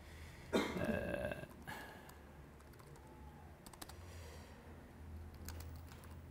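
Quiet clicks of computer keyboard typing come in scattered short bursts, with a soft burp-like vocal sound near the start.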